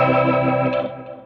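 A guitar run through a Leslie rotary speaker effect on a Fractal Audio unit with stereo spread at 100% sounds a sustained, swirling chord with pulsing chorus-like warble, decaying over about a second.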